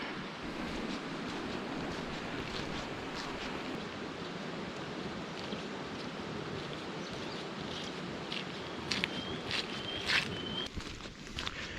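River water on the Bibbulmun Track rushes in a steady, broad hiss throughout, with faint footsteps and a few light splashes near the end as someone crosses.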